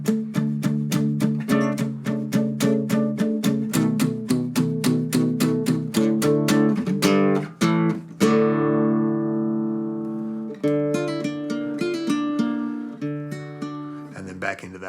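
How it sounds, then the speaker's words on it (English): Acoustic guitar played hard with rapid rhythmic strumming and palm-muted chugs on the opening note of each chord, close and loud, a short pause near the middle before the strumming resumes. "From here it'll go into the harder strumming portion that sounds like this."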